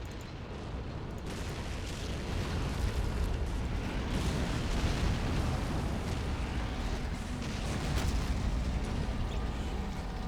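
Dense, continuous battle noise from the Men of War: Assault Squad 2 video game, with weapons firing and explosions layered into a loud, rumbling wash of booms and bursts lasting the whole stretch.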